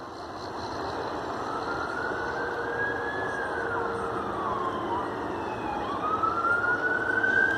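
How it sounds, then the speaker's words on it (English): A fire truck's loud wailing siren sweeps up and down continuously as it passes close by on a one-lane road, its pitch shifting with engine rumble underneath. "And then here we got sirens."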